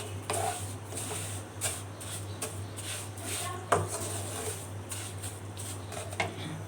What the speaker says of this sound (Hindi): इधर हम वर्मिसेली को हम भून रहे हैं। थोड़ा सा घी में इसको गोल्डन गोल्डन कर लेंगे